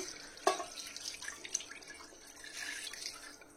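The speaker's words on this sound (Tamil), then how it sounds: "இந்த டைம்ல வந்து நம்ம தேங்காய் பால் எடுத்தது வந்து இதுக்குள்ள மிக்ஸ் பண்ணிக்கலாம்" Coconut milk poured into a chicken curry masala in a pan, a soft liquid splash and trickle with a sharper drip near the start, fairly quiet and without talk.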